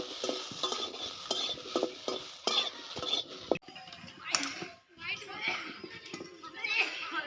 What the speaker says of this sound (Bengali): এখন লঙ্কা ভাজি দেবো।